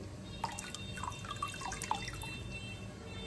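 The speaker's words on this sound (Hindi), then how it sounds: "ये देखें जी हमारे पानी को बॉईल आ चुका है" A pot of salted, oiled water comes to the boil for rice, giving soft, irregular bubbling pops and plinks, close but faint.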